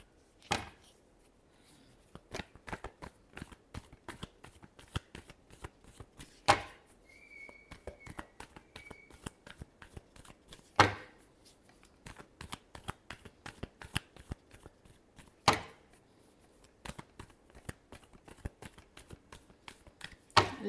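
Tarot cards being shuffled by hand in a steady run of quick, crisp riffling snaps and flutters, close and fairly quiet, with a few sharper slaps between the bursts and no talking.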